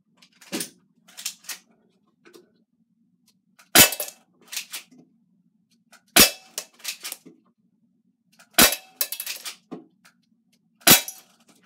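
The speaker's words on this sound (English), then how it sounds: "Okay, firing." A Crosman Stinger P311 spring airsoft pistol fires about five sharp, snappy shots spaced a couple of seconds apart outdoors. Each crack is followed by brief clattery mechanical clicks, with near silence between shots.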